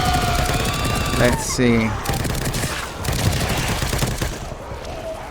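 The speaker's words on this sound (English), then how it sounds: "Now let's try our assault rifle." Assault rifle fire in the video game The Evil Within 2, aimed at a monster. Loud, dense bursts of shots fill the scene, with someone briefly speaking over the shooting.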